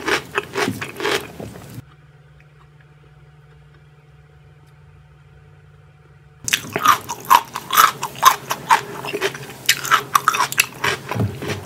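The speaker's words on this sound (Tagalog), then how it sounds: "Malutong-lutong pa siya. Yan yung chicharon, malutong." Crunchy chicharon being chewed, with dense crackling bites in close, loud bursts before and after a quiet pause.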